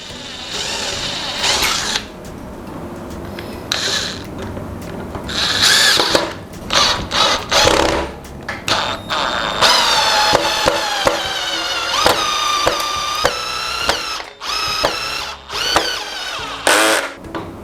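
A Mollar CIDR20351 20V brushless cordless impact driver runs in repeated bursts, its motor whine rising and falling with rattling impact clicks between short pauses as it drives an 8 cm screw at speed setting 2.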